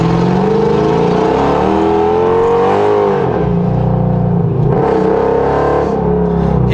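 A nearby car revs hard and accelerates away from a traffic light, its loud engine note climbing and falling steadily throughout with a continuous roar and no speech.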